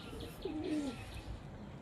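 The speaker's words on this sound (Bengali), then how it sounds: "এসে প্রথমেই পায়রাগুলোকে খুলে দিয়েছি।" A single low, soft coo from a pigeon on a rooftop sits over faint outdoor background noise, with no one speaking.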